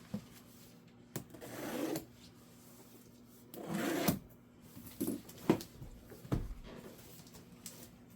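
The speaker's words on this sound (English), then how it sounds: "let's go ahead and get this thing opened up here" Someone opens the box of an MSI RTX 5080 Gaming Trio OC graphics card. Cardboard scrapes, rubs and tears come in several separate bursts, with quiet gaps and small taps between them.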